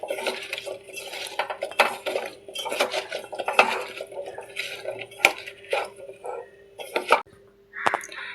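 Yam pieces are mixed with spices in a bowl, producing close, irregular clinks, knocks and wet scraping against the bowl, with a few sharper taps and no talk.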